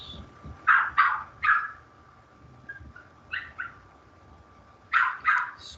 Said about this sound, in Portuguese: tem um cachorro latindo na minha orelha